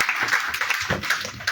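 A gathering at a Lenten church retreat claps together, a brief close patter of many hands at an uneven rhythm.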